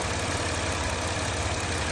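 Engine of a 2008 Chrysler Town & Country idling with the cooling fan running, a steady, dense mechanical whir and hum that holds constant, close and fairly loud, without talk.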